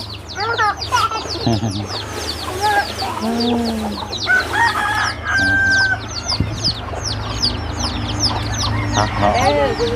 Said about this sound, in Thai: นั่นไก่เฮา